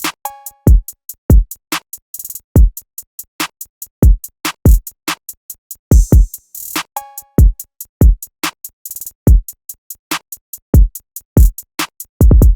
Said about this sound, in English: On its own, the drums sound like this.